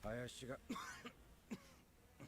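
A brief video game cough breaks through steady talking, close and moderately loud.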